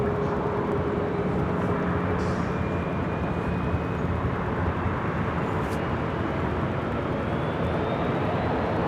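A Southwest Airlines Boeing 737 MAX 8 takes off from runway 24 left at LAX, producing a loud, sustained, broadband engine roar that holds steady the whole time with no talk over it.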